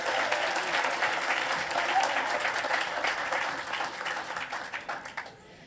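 Audience applause at a cruiseport dedication ceremony in Boston, a steady round of clapping from a moderate crowd that holds for several seconds and then tapers off into scattered claps and fades.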